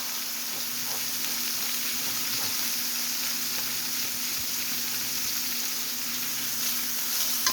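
Carrots and onion sizzle steadily in a hot pan for pork chow mein, a loud continuous frying hiss that holds throughout without pause.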